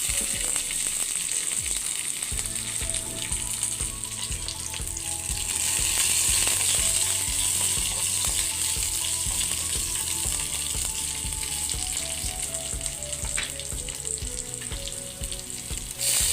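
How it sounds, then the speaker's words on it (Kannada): Garlic and two or three green chillies frying in a pan for a bendekaayi palya, with a loud, continuous sizzle close by and light stirring, no voices. "ನಂತರ ಸ್ವಲ್ಪ ಬೆಳ್ಳುಳ್ಳಿ ಹಾಗೆ 2-3 ಹಸಿಮೆಣಸಿನಕಾಯಿ ಹಾಕಿ ಫ್ರೈ ಮಾಡ್ಕೊಳ್ಳಬೇಕು"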